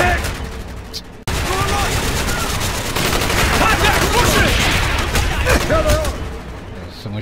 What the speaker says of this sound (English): Someone shooting me from the right